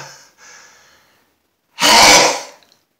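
A loud, uncovered sneeze bursts out once after a couple of faint preparatory breaths, close and forceful, then stops abruptly.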